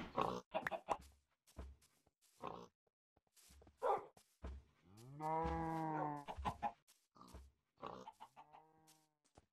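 Sheep bleating in the Minecraft video game, heard amid Mario-themed Wii U gameplay, with a couple of drawn-out harmonic bleats standing out from short, scattered game sounds.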